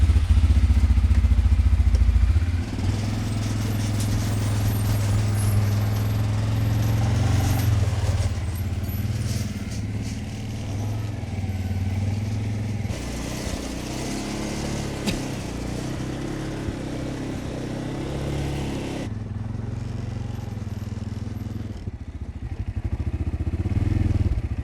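A tracked ATV tows an ice fishing house, its engine a steady, rough, low rumble with clattering track noise throughout, shifting in load and dropping briefly before revving up again near the end.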